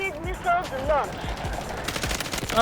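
Gunfire in the shooter game Delta Force: a rapid string of sharp shots in quick bursts, mixed with other in-game effects and faint voices.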